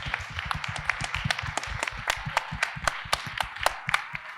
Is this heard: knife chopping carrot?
no